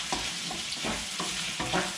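Home-grown potatoes sizzling in hot oil over fairly high heat, with repeated stirring scrapes every half second or so against a steady frying hiss, close and unaccompanied by talk.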